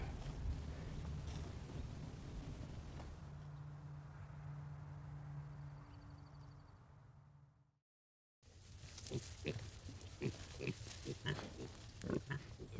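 Pastured pigs grunt and snuffle on a farm, their short grunts coming in quick bursts after a low, steady rumble and a moment of silence.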